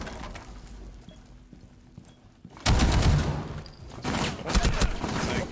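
Rapid gunfire bursts from a Rainbow Six Siege match on the Oregon map: a sudden loud volley crashes in after a quiet stretch, then a second burst of shots follows, close and sharp.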